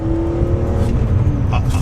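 A BMW E46 M3 engine revving up close, a loud, steady mechanical drone and whir throughout, with a small rise in pitch near the end.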